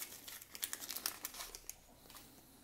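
Crinkling and tearing of a Panini Spider-Man 60th anniversary sticker packet being opened by hand, a quick run of close, crisp crackles and rips that fade out toward the end.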